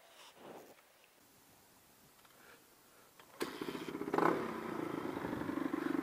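A motorcycle engine starts up after a quiet stretch, cranking briefly and then catching into a loud, steady idle close by.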